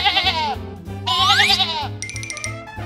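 A cartoon farm goat bleats in wavering, high-pitched cries, two long quavering calls, over a bouncy musical backing with a jingly tinkle toward the end.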